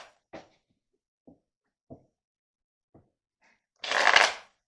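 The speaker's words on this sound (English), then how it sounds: "It says cut, so let's cut. Okay. Had to cut the deck." A deck of tarot cards is handled with a few soft taps and clicks, then comes one brief, louder riffle as the deck is cut. The sounds are close and quiet, with no talking.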